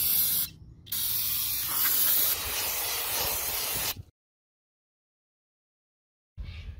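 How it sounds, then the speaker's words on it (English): Brake cleaner sprays from an aerosol can onto wheel bearing parts in loud, close hissing bursts: a short blast, a brief pause, then a longer spray of about three seconds, silence, and a final burst starting at the end. "Now I'm going to hit some of this with brake cleaner."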